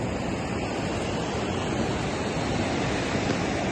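Sea surf at Calangute beach in Goa, a dense steady wash of breaking waves heard up close, loud and unbroken, with no voices.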